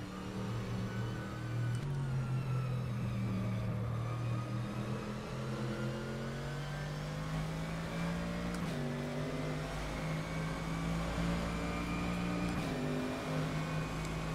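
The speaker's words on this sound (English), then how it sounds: "The engine sounds are good." A GT3 race car in rFactor 2, its engine droning steadily and climbing through revs with a few sharp shifts, loud and continuous for the whole stretch without any talk.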